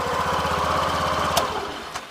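A 2021 Yamaha FZ motorcycle, self-started, idles with a steady, close puttering engine rhythm, followed by a couple of brief clicks near the end.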